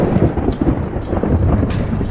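Thunder rumbling during a rainstorm while riding on horseback, a deep rolling roar with steady rain hiss throughout, no voices.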